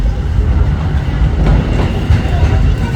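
The Walt Disney World Magic Kingdom railroad train runs along its track with a loud, close, steady rumble and rhythmic clatter of wheels throughout.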